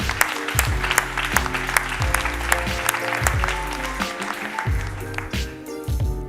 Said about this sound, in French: Et on vous applaudit bien fort.